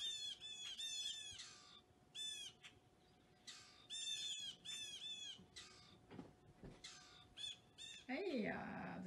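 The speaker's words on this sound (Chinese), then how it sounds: "多快乐的小鸟。" Birds chirp and call repeatedly in bright, rapid bursts close by, interspersed with pauses and a few harsher calls near the end, while a person speaks quietly underneath.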